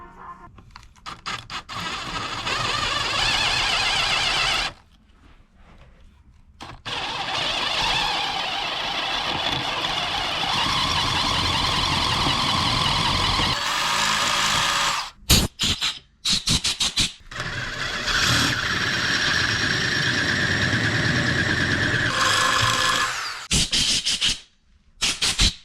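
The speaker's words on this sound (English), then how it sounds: "I'm going to drill the big hole for this and then hopefully get a tap going" Loud, sustained high-pitched whine of a drill boring a 7/16 hole in metal on a Harley-Davidson engine part, running in long stretches broken by brief pauses, close up.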